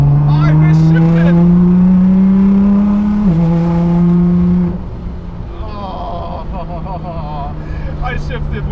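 Tuned twin-turbo car, a widebody GTR R35 or 370z NISMO, screams up through the revs with rising pitch, then shifts early and the note drops and settles to a lower drone; loud and close.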